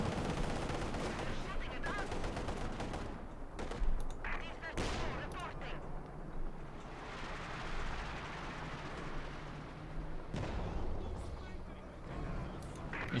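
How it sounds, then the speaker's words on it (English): A Katyusha rocket barrage in Company of Heroes 2 rumbles through dense battle noise, with repeated distant launches and impacts mixed with gunfire, all running continuously under the match's sound. "Another Katyusha barrage against Luvnest."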